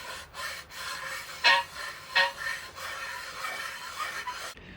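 A knife sharpening stone sands stubborn gasket remnants off a Honda CRF110 engine case, giving short rasping strokes with a couple of louder scrubs, close and dry with no voice.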